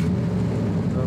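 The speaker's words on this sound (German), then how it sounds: "Also, starte den Motor." Off-road Ghe-o Rescue vehicle's engine running with a steady low rumble after starting, continuous and close for about a second, with a voice speaking over it.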